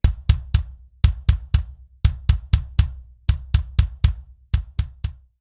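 Guitar and kick drum hit together in a tight, repeating math-rock figure spanning nine quarter notes, with punchy low thumps and bright attacks in an uneven but cycling rhythm.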